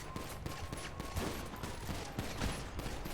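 Shotgun fire in a video game: dense, rapid blasts and crackling impacts packed together, moderately loud against busy game noise, with no speech.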